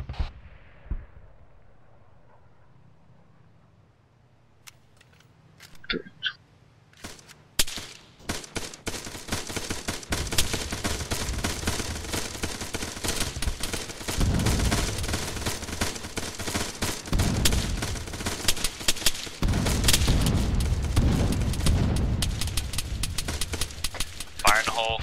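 Gunfire erupts during an amphibious-landing platoon training exercise: after a few scattered shots, sustained bursts of rapid automatic fire and overlapping shots continue loudly for about fifteen seconds, with radio voices early on.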